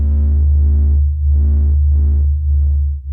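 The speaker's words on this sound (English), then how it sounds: "This is the sound of the sun singing." The sun's pressure-wave oscillations, sped up into audible range, form a deep continuous throbbing hum with pulsing swells on top, loud and steady throughout.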